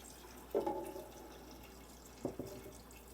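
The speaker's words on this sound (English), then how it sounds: "I'm going to add a little bit of stock." Chicken stock poured into a roux for chicken and andouille sausage gumbo, heard as two short liquid splashing bursts a couple of seconds apart, moderately quiet with no talk.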